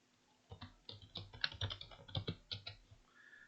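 Quiet, close typing on a computer keyboard while entering text in FreeCAD, a quick irregular run of key clicks lasting a few seconds with no talking.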